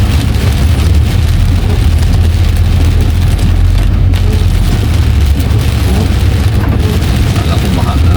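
Heavy rain hammers on a vehicle, heard from inside as a loud, dense, unbroken roar with a low rumbling undertone from start to finish.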